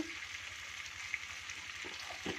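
Chilli chicken frying in a pan while being stirred, with a quiet, steady sizzle and a few soft scraping knocks near the end.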